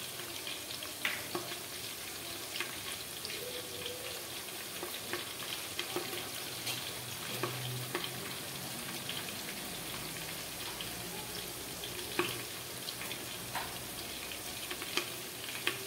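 Whole spices and masale bhaat ingredients sautéing in oil in a pan, a quiet continuous sizzle with light crackles and occasional faint clinks of stirring, no talking.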